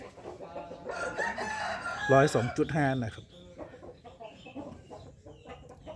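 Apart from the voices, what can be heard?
rooster crowing and clucking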